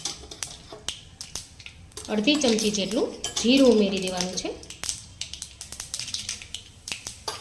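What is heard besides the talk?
mustard seeds crackling in hot oil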